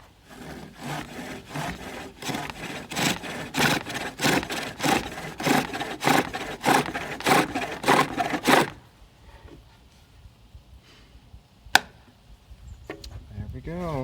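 A wooden bowl being turned on a pole lathe: loud rhythmic scraping cuts pulse back and forth for about nine seconds, then stop, leaving a quieter stretch with a sharp knock and light handling sounds.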